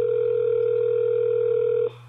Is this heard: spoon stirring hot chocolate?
no